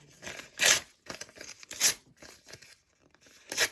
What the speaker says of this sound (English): Rip it out.